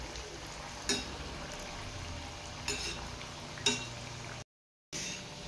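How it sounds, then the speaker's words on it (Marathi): Spinach dal batti dumplings fry in a pan as a soft, continuous sizzle. A few sharp clicks and taps from turning them break through, followed by a brief gap of silence. "दोन्ही बाजूनी एकसारखा कलर येऊस्तोवर आपल्याला या बट्ट्या तळून घ्यायच्या आहेत"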